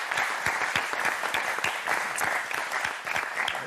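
Studio audience applause on a French TV game show, fairly soft, with individual claps standing out in a loose, lively rhythm throughout.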